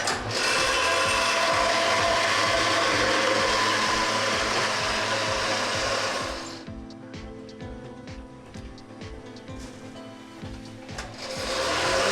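A brick block press machine compacting a large beam brick that fills the whole mold, with a dense, loud mechanical rattle and whir that drops to a lighter rhythmic clatter partway through and then swells again, with no voices.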